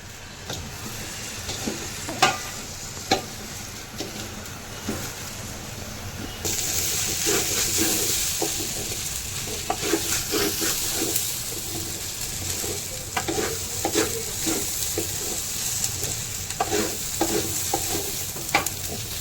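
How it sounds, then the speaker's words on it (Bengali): Rice fries in a pan for biryani while a utensil stirs and scrapes it, giving a continuous close sizzle that grows louder partway through, with scattered clinks and scrapes. "ভালো করে এরকম করে ভাজতে হবে চালটাকে সুন্দর করে, যাতে লেগে লেগে না যায়।"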